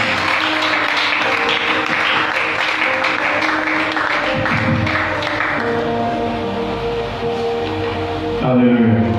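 A church congregation cheers and applauds God, sustained loud clapping mixed with shouts and voices filling the hall throughout, swelling again near the end.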